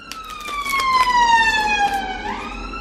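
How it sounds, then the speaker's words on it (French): A loud wailing American-style emergency vehicle siren sweeps downward in pitch, close by, with faint traffic noise beneath. "Ces sirènes à l'américaine, insupportables."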